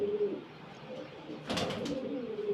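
Pigeons coo in a loft, soft repeated low calls with a brief rustle or flutter midway, close and fairly quiet.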